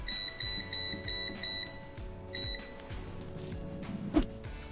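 A Cosori air fryer gives a run of six short, evenly spaced high electronic beeps while being set to preheat to 350 degrees, then one more beep after a pause, over faint kitchen background noise.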